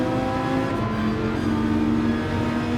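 A Dodge Viper engine in fifth gear in a racing video game drones at a steady high pitch, loud and continuous with no talk over it.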